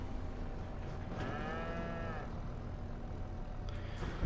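A cow lows once inside a farm enclosure, a drawn-out moo rising and falling over steady low engine rumble from nearby machinery, with no one speaking.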